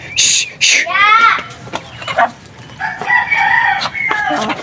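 Chickens and chicks on a poultry farm crow, cluck and cheep in loud overlapping bursts, a rooster's call rising early on, with a voice and other talk mixed in.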